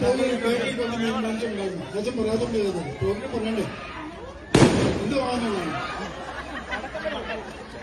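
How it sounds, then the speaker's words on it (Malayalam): A single sharp firecracker bang cuts through lively crowd chatter and laughter at a church event, with people talking throughout. "ഇതിനിടയ്ക്ക് ഇനി പടക്കം പൊട്ടിക്കും"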